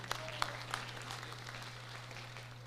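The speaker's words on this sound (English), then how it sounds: "Give him a round of applause." Steady applause from a crowd at a high school senior awards ceremony in a large room, continuous clapping with a low hum underneath.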